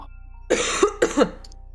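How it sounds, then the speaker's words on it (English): Someone coughing from allergies gives two harsh, close coughs in quick succession, loud and alone against a faint background hum. "I'm sniffling, I'm coughing."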